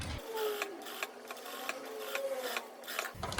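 A sewing machine stitches a seam on fabric, a fast even mechanical whir with a rhythmic ticking pulse running steadily throughout, close and moderately quiet.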